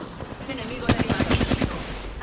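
Rapid automatic gunfire in a shooting video game, a brief stretch of near, quick-fire bursts that starts abruptly partway through and cuts off again, over low game background noise.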